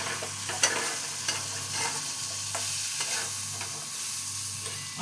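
Eggplant and potato pieces fry in oil in a pan with green chilies, a steady soft sizzle broken by a few scraping stirs, close and alone with no talk.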